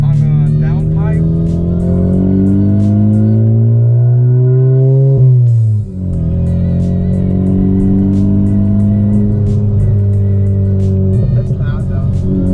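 A Honda Civic Type R with an open downpipe revs loudly and steadily, the engine note climbing and holding before a brief dip and recovery, close and continuous throughout.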